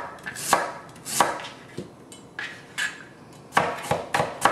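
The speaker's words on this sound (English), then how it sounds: "Here we're chopping the radish" A knife chops radish for kimchi on a cutting board, sharp close knocks landing in an irregular rhythm, about ten strikes, some in quick pairs.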